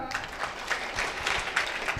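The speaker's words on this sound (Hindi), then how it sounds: "तालियां जोरदार।" Applause from the audience at a Rajasthan government senior secondary school's annual day and donor-honouring ceremony, with irregular clapping bursts rising and falling across the stretch and an announcer's voice heard over it.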